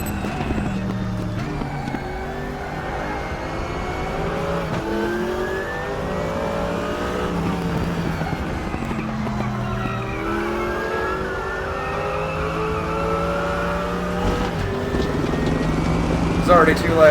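Race car engine in the Raceroom sim racing game, revving and shifting through gears with rising and falling pitch sweeps, loud and continuous throughout, a voice talking over it.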